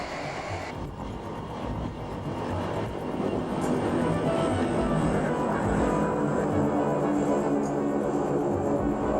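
Aircraft rolling on an aircraft carrier flight deck after an arrested landing, a steady loud engine roar and rumble that swells slightly and stays constant throughout, with no talk.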